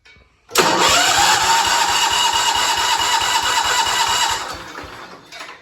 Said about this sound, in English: first time trying to actually start and run this engine in 7 years.